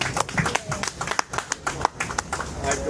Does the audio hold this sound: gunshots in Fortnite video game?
no